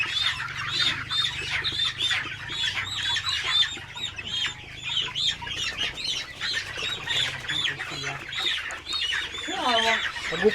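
A flock of farm chickens in Cebu clucks and squawks nonstop, close and busy, during a coryza vaccination, with people talking faintly underneath.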